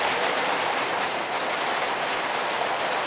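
Steady rain falls outside an off-grid tiny house on an Arizona ranch, a dense, even hiss of drops on surfaces that stays constant and fairly loud throughout, with no voices.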